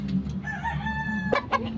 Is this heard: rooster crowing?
yes